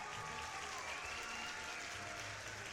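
A faint, steady crowd cheer with clapping washes through continuously, a short celebratory burst popping up in the video game Ova Magica.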